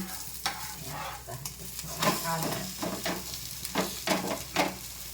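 Dosa batter cooks on a hot pan with a soft sizzle while a utensil scrapes and taps the surface in several short strokes, close and moderately loud.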